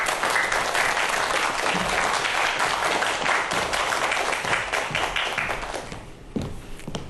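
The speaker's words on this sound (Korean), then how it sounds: "큰 박수로 맞이하도록 하겠습니다." A lecture audience gives a speaker a big round of applause on her introduction, a dense, loud wash of clapping that holds steady and then tapers off near the end, with a few separate claps standing out.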